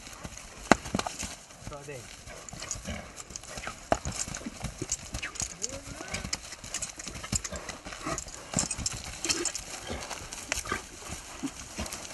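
Clip-clop of a horse's hooves on a leisurely ride, steady uneven beats heard close amid outdoor ambience, with a brief whinny and a voice talking in the background.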